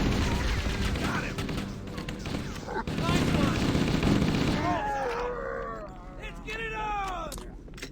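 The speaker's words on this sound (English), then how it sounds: "He gave us a pistol, which we're about to use right now." Gunfire from a pistol in the video game Halo: Combat Evolved, heard as a dense run of shots over a busy game mix, with rising and falling tonal alien-weapon and effect sounds in the later part.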